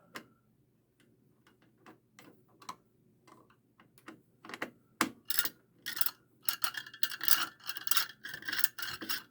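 A screwdriver loosens the spring-mounted CPU cooler of a Dell Inspiron 530 desktop, making faint scattered ticks and scrapes that turn into busier, louder clicking and rubbing in the second half, close by with no speech.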